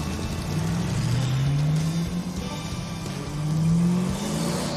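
Scrambler off-roader rock crawling, its engine revving steadily up and down through two rising pulls, close and loud, with a whirring drone throughout and no talk.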